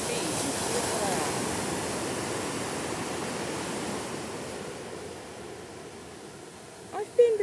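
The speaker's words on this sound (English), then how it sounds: "So as you can see, it is an absolutely gorgeous beach." Surf at a beach washes in as a steady, soft roar of broken waves, fading slightly toward the end before a brief close knock.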